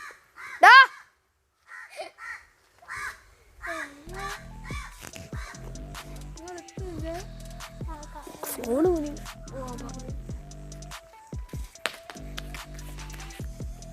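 A crow caws loudly and close in a few sharp bursts at the start, then a person talks at length while faint bird calls continue behind.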